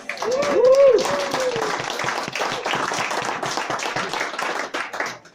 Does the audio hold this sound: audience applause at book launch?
yes